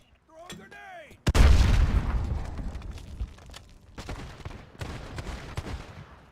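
A grenade goes off in Call of Duty: Modern Warfare with a sudden, loud, close explosion and a long, rumbling decay, followed by scattered gunfire. Short whistling sweeps come just before the blast.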